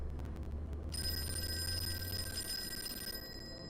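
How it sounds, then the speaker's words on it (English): An old-fashioned telephone rings in the Call of Cthulhu video game, a bright sustained electric bell that starts after a moment and runs steadily over a low rumbling ambience before cutting off near the end. "phone is ringing."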